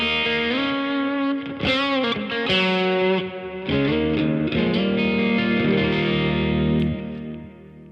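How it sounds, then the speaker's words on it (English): An electric guitar through a pedalboard with reverb, delay and light compression plays sustained, shimmering chords and notes that ring out and echo, loud and continuous throughout. "So added reverb and delay and a little bit of compression"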